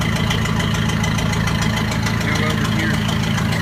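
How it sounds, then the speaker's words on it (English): A Ford 2000 tractor engine runs steadily at a good RPM with a continuous loud, close mechanical rumble and rapid knocking throughout. "The tractor running at a good RPM."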